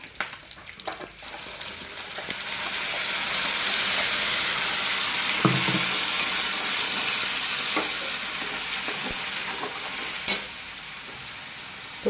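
Gaon-style fish curry sizzling and frying in a pan, a steady broad hiss of oil and steam with occasional stirring clinks, close and continuous with no talk.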